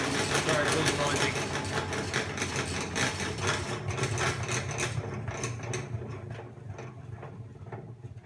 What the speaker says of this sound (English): I spin this around like this with the lid down, and it spins all the honey out of the cells of the frame.